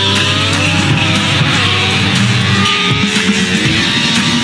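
A vintage Red Bull RB1 Grand Prix racing car engine runs loud and close in a steady, rough idle with a throbbing low rumble. The rumble continues unbroken from start to finish with no voices.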